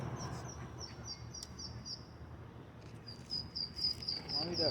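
Ducklings peep in repeated high, thin chirps near a pond, in two bursts separated by a pause, over outdoor background noise.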